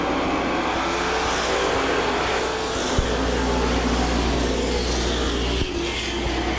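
Race cars roar off turn 4 at Claremont Speedway during weekly short-track racing, a loud, steady wall of engine noise from the pack accelerating, with brief sharp bumps near the middle and end.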